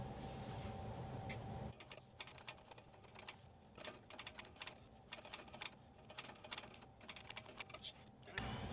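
Sewing machine back stitching a fabric bag close to the edge, a series of short rapid mechanical bursts with brief pauses between them, fairly faint.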